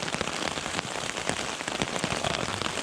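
Steady rain patters on a soaked tent on the Appalachian Trail, a dense, continuous drumming of drops close overhead with no voices.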